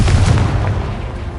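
Confringo blast spell exploding in the Hogwarts Legacy video game, a loud, close, deep booming burst that fills the short moment and rumbles on without a break.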